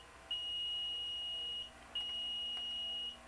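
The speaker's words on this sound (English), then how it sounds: "this annoying sound you hear there, that buzzing, will go off" Two long, steady high-pitched electronic buzzes sound from a robot car's infrared sensors, each lasting over a second with a short gap between, fairly quiet and alone.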